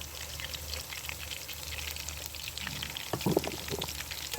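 Potatoes sizzle and crackle steadily frying in hot ghee, with a brief clatter of stirring near the end; no voices.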